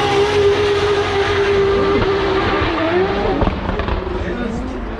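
A drift car at full throttle, a loud sustained engine roar with a rising and falling tone and tire noise, heard over crowd and talk at a drifting event.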